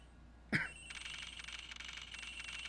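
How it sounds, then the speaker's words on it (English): A telephone rings in Ace Attorney Investigations, a bright, trilling electronic bell that repeats steadily after a sharp opening click, fairly quiet and alone. "It sounds like the phone is up in the flight attendant's room"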